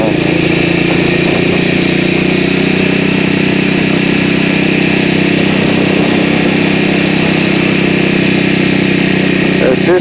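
A motorcycle decorated with two American flags runs steadily at a close, loud, even idle, its engine drone holding constant with no talk over it.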